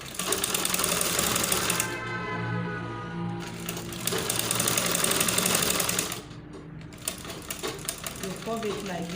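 A sewing machine runs in fast rattling bursts while stitching the curved collar of an Ankara print shirt, pausing briefly between runs, close up with someone talking over it.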